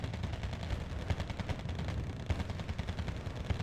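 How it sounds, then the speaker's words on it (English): Sustained small-arms gunfire aimed at infantry in the real-time strategy game Wargame: Red Dragon, with dense crackling shots and bursts that overlap steadily throughout, moderately loud, with no talking. "Okay, our infantry is getting fired upon."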